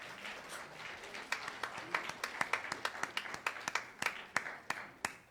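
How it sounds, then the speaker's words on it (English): A small audience claps for a 96-year-old woman, sparse individual claps building into a loose, uneven patter of hand claps, fairly quiet and close, with no cheering voices. "cheer this 96-year-old woman on, will you?"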